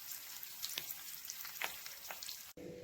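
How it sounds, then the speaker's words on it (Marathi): A South Indian tempering of cumin, asafoetida, urad dal, curry leaves and dried red chillies for idli chutney, sizzling softly in hot oil with a few brief crackling pops, quiet and close. "या दोन सुकलेल्या लाल मिरच्या आपली फोडणी तयार झालेली आहे"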